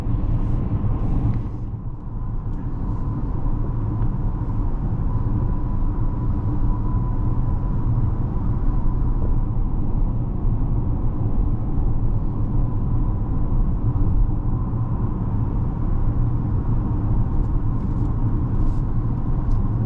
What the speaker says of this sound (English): Road noise is very insulated. This cabin feels really nice.